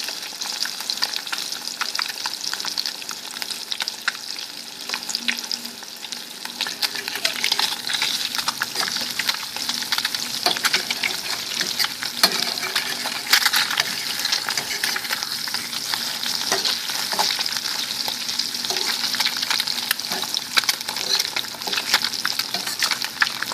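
Eggs fry in olive oil in a pan with a loud, continuous crackling sizzle that swells after the first few seconds and keeps spitting and popping up close, with no voices over it.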